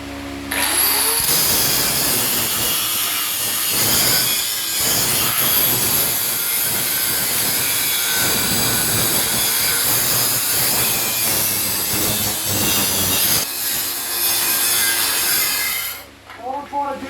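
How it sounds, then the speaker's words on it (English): An angle grinder with its guard fitted cuts into the metal frame of a DIY motion sim platform, a loud continuous high-pitched grinding whine that holds for most of the stretch before spinning down at the end. "You'll notice the doctor using all the latest safety equipment, his guard and everything on his on his angle grinder here."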